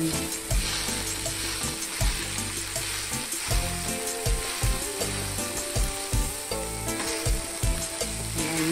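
Prawns with chili powder frying in a pan for prawn curry, loud close sizzling with repeated scraping stirs and a low rhythmic hum underneath, no voices.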